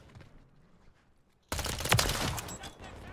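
Burst of rapid gunfire in a Call of Duty match, dockside near water, erupting suddenly after near silence and continuing as loud, dense rattling shots for the rest of the moment.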